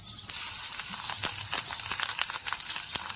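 Garlic and chili tempering in hot oil with cumin and asafoetida, sizzling loudly right from the moment it hits the pan, a steady hiss dotted with small crackles and pops, up close.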